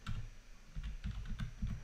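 Keys clatter on a computer keyboard in short bursts of close, fairly quiet typing, with brief pauses between runs and no voices.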